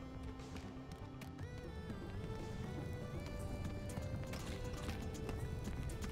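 Flamin' Cheap Hoof, a constantly burning hoofed creature in the video game Bugsnax, trots with a steady clip-clop of hoofbeats over continuous game music and ambience, moderately loud throughout.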